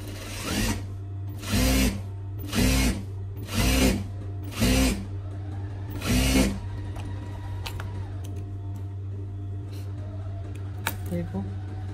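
A sewing machine stitches fabric in five short loud bursts of rapid mechanical whirring, separated by pauses. A voice talks between and over the bursts.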